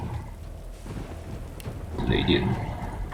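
A rumbling thunder-and-lightning attack in the video game Original Sin 2 (Divinity), a low crackling roll that swells and briefly sparkles with bright electric zaps.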